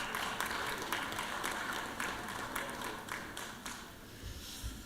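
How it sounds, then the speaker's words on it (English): Scattered applause from a group in a legislative chamber during a session, moderately loud and gradually thinning out over a few seconds. "Barry, everybody give Barry a round of applause."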